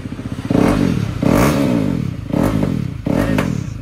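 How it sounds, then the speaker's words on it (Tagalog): A KTM RC 390 motorcycle fitted with an SC Project Arrow exhaust revs in four sharp, loud blips, each swelling and falling back toward a burbling idle between them. "Sound check, KTM 390,"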